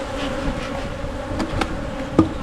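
Honey bee swarm filling a hive, a dense close buzzing drone with individual bees whizzing past, alone without voices.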